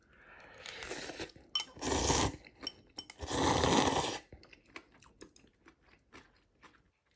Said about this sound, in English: as I'm chewing the noodles, I got some of the vegetables in there. Nice and crunchy